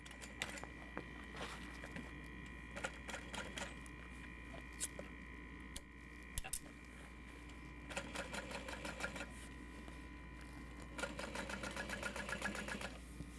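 A sewing machine top stitches a bag seam on a Sarah Bag backpack, running in short rapid bursts of mechanical clatter separated by brief pauses, close and fairly quiet.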